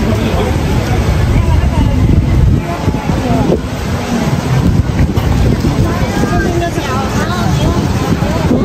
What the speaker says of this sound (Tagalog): Sarap, mahangin na.